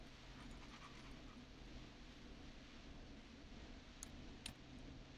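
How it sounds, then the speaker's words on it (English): Rapid, steady dog panting from a neighbor's dog in the video game Killer Frequency, a faint, continuous breathy rhythm over a low background hum, with no one talking. "Is that a neighbor's dog? Yes, it is."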